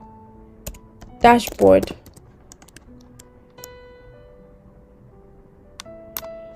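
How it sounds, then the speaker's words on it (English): Computer keyboard keys tap in sparse, crisp clicks scattered through the moment, close and light, while a voice speaks briefly near the start. "Hit a T and type sales"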